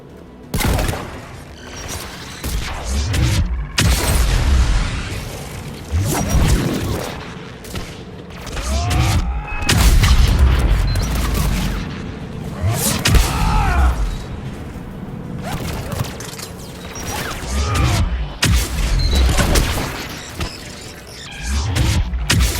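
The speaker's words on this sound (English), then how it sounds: "AA guns ahead of us." Anti-aircraft guns firing in the video game Mass Effect 3, with heavy repeated bursts and booms in irregular waves, loud and close, mixed with mechanical clanks and creaks.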